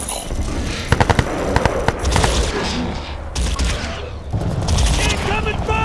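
Bursts of automatic gunfire and scattered shots in a Crysis 2 firefight, with rapid rattling volleys and a few sharp loud cracks over a continuous battle din, voices shouting amid the shooting.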